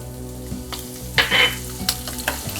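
Green chillies sizzle as they drop into hot frying oil for a crisp chivda snack, a steady fry hiss with brief bursts of crackle and a few stirring knocks, close and alone.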